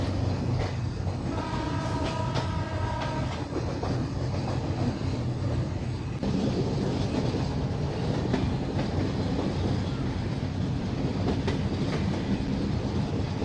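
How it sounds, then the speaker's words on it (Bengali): Rupsha Express passenger train hauled by an American EMD locomotive, a loud continuous rumble and clatter of wheels on rails heard from on board, with a brief tonal horn-like sound early on. "আর আজকের লোকোমোটিভটা হচ্ছে আমেরিকান EMD লোকোমোটিভ"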